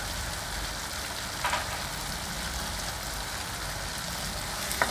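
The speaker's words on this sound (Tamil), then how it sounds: "இப்போ இஞ்சி பூண்டு பேஸ்ட்டு 2 கரண்டி போட்டுக்கலாம். போட்டுட்டு இதையும் நல்லா வதக்கிடலாம்." Ginger garlic paste sautéing in hot oil for mutton curry, a steady close sizzle and crackle with occasional stirring scrapes and no talk.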